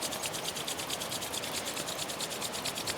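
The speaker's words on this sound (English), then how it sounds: "bring your hands together and just rub your palms, creating heat, creating friction" Palms rub briskly together in quick, even strokes, a close, soft, continuous friction hiss with no voices.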